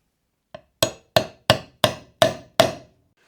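Threaded inserts being pressed and tapped into a Frankenstrat-style guitar body with a tool, heard as seven sharp, evenly spaced hard knocks that grow louder after a faint first one, close by, with silence between strikes.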